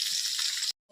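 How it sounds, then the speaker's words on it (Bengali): Meat pieces dropped into hot oil in a pan, cooked with pea greens in a home kitchen: a loud, dense hiss of sizzling fills most of the second, then cuts off abruptly before a faint return. "এই কটা মাংস তেলে দেবো"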